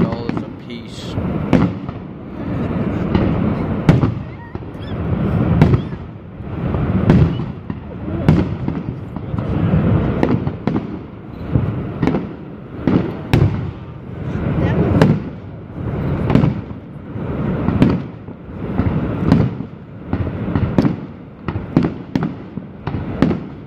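Large fireworks burst one after another in a dense, irregular barrage at Niagara Falls, each loud boom trailing into rumbling echoes with barely any pause between blasts.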